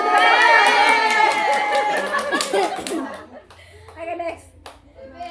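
An audience claps loudly together for a few seconds during a quiz-style session, then the clapping fades into scattered voices and some laughter.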